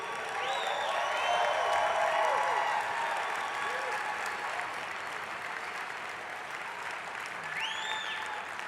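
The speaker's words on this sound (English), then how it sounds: "clap for him if you know who he is" Applause from a large audience fills a keynote hall at a corporate convention, a dense steady clapping that swells and then eases slightly, with faint cheers and a few whistles over it.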